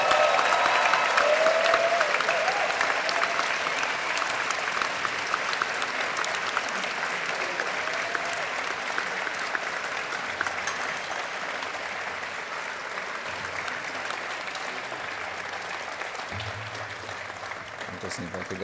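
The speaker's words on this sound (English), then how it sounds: "round of applause for the class of" An audience at the Penn Dental Medicine White Coat Ceremony applauds the class of 2025, sustained dense clapping filling the hall for many seconds, with some voices beneath and a faint low hum late on.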